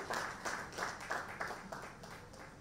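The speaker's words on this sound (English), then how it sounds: "A better round of applause for him as he comes" Audience applause, a room of hands clapping in uneven bursts that rise and fall, moderately loud and slightly distant.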